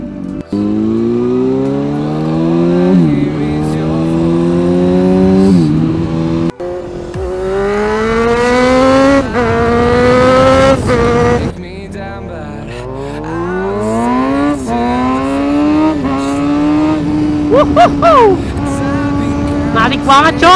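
A 2006 Honda CBR 1000 motorcycle accelerates hard through several gears. The engine note climbs steeply and drops at each shift, loud and close, with wind rush underneath.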